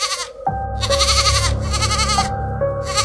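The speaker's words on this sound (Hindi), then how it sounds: "घर के बाहर बंधी बकरी जोर जोर से आवाज करने लगी" A tethered goat outside a house bleats loudly again and again, three or four strained, wavering cries close by in quick succession with brief gaps between them.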